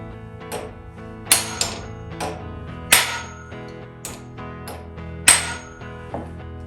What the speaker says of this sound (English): I'm actually going to bend the teeth, well, forge the teeth, closer to a 1/2 inch down the tooth.